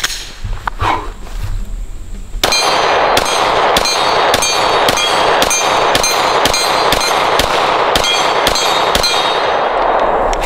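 Rapid pistol fire from an S&W M&P9 and Glock 17 at an outdoor range, about a dozen sharp, loud shots in an even, quick cadence after a couple of seconds of quieter handling noise.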